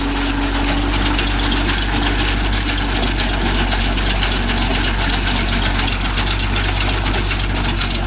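A Kubota MU4501 tractor engine idles loud and close, a dense continuous low rumble with steady vibration and no pauses.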